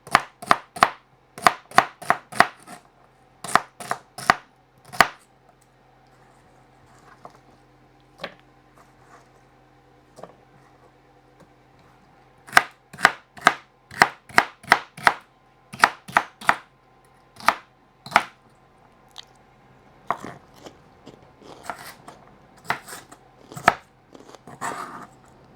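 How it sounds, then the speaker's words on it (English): A knife slices and trims a large roast on a cutting board, producing sharp, distinct chopping taps that come in quick bursts with quiet pauses between them, close and clear with no talking. "Let's just kind of slice it up like this to start with, and just trim it down."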